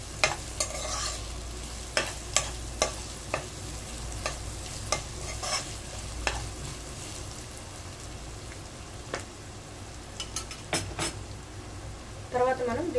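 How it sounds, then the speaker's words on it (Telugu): Dried anchovies fry in a pan for tomato curry, with a soft steady sizzle under repeated scraping and clacking strokes of a spoon stirring against the metal. "ముందుగా వాష్ చేసి పెట్టుకున్న నెత్తలు అనేది మనం వేసేద్దాము దీంట్లో ఇది వేసుకొని బాగా కలుపుకోవాలి"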